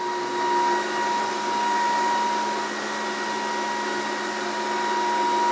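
A Dreame H14 Pro wet floor vacuum runs along a wall edge in repeated passes, giving a loud, steady whine with a constant hum and no break in the sound.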